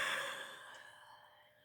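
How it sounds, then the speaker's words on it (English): A big open-mouthed yawn comes out as a long breathy exhale that starts strong and slowly fades away. It is close and alone, with no speech. "Big yawn, wide open mouth."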